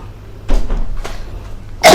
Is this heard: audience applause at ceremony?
no